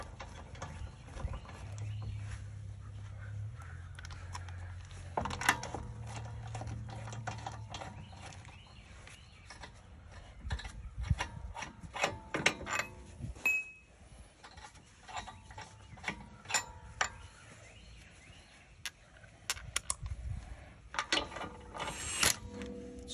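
A 17 mm socket on a ratchet tightens front brake parts on a 2012 Audi A3 TDI, with quiet, close clicking of the pawl in short irregular runs and scattered metallic taps over a low background.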